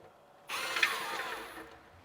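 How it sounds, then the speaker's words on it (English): A power drill whirs steadily for about a second, biting through a fairing hole on a Husqvarna 701 motorcycle, then winds down and stops. "you find the hole, push a little bit, and you drill it through"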